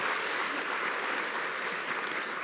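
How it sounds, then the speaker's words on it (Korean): A church congregation at a Sunday worship service in Daejeon applauds to welcome first-time attendees, a steady, dense clapping from many hands filling the room without a break for the whole stretch. "여러분 우리 박수로 특별히 우리 환영해 주시면 좋겠습니다."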